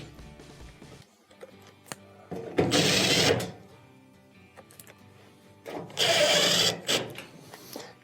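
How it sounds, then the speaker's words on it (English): A power driver runs in two bursts of a few seconds each, reinstalling screws on a washing machine during a leaking dispenser hose repair, with faint clicks and handling noises in between and no talking. "finally, let's go ahead and reinstall the 3 screws"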